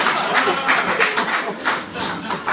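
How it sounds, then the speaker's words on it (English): A comedy audience claps in uneven bursts of fairly loud hand claps, close and spread across the whole moment. "Moving towards where the claps were"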